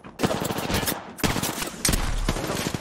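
Gunfire in Apex Legends Season 12 on Nintendo Switch, rapid automatic bursts broken by a brief pause, loud and continuous, with faint voice lines under the shooting.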